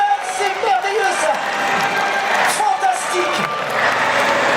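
Crowd applause and cheering at an outdoor motor show in Monistrol-sur-Loire, a steady loud wash of clapping and shouts running throughout, with a voice speaking over it.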